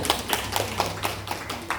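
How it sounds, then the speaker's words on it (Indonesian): A small group of women claps in a classroom setting, producing sparse, uneven hand claps at a moderate distance with a low hum underneath. "Untuk pertanyaan yang luar biasa, tepuk tangan dulu ibu-ibu semua."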